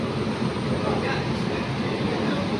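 A Rajdhani Express rolling into a station, a steady, loud broadband rumble and rush of rail noise that holds constant throughout, with voices mixed in.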